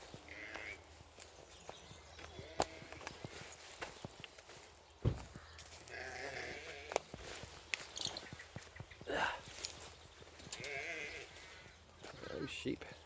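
Sheep bleat here and there on a farm while hooves clip-clop and footsteps shuffle nearby, with someone talking over the animals at moderate loudness.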